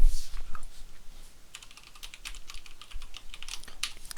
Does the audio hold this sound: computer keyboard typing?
yes